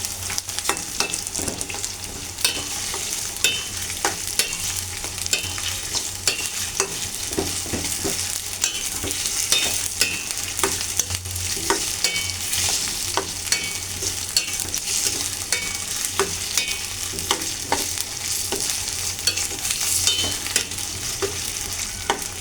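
Ginger-garlic paste and spices frying in a pan at home, with a continuous close sizzle and repeated scraping stirs of a spoon throughout, no talking.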